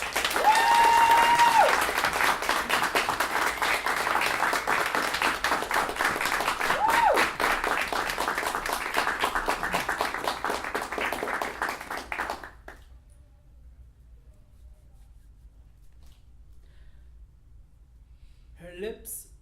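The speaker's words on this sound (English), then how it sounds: "warm and welcome and applause for Tswi" Warm applause from the audience at a spoken-word poetry night, loud and continuous for about twelve seconds before stopping abruptly into near silence, with a brief sound returning at the very end.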